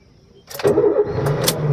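A 2011 Honda City sedan engine cranks briefly and catches, then settles into a steady, fairly quiet idle, loud and close, with a couple of faint clicks after it starts.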